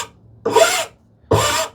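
Hand tool such as a rasp or file beveling the corners of a wooden TV unit piece, two distinct rasping strokes, each about half a second long, close and clear with a short pause between.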